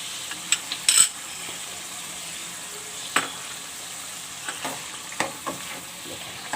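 Chicken cooked with about a cup of yogurt sizzles steadily in a pan at low level, with scattered scrapes and clicks from stirring and a sharper clatter near the start; nobody speaks.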